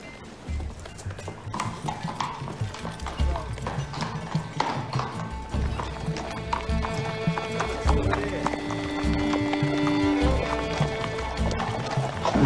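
A palfrey's hooves clip-clop steadily beneath an orchestral music score, with a brief horse whinny mixed in.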